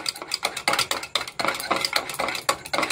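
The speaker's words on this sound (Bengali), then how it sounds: "ফেটিয়ে নেব, যাতে সম্পূর্ণটা মিশে যায়, ডেলা ডেলা যেন না থাকে।" A whisk beats strained yogurt in a bowl, sounding as quick rhythmic metallic scrapes and taps against the bowl's sides, close and steady for about three seconds with no talking.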